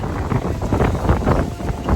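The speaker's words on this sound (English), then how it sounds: "Pretty windy." Strong, gusty wind at a beach in Jamaica buffeting the microphone in loud, uneven rumbling bursts, with no voices heard.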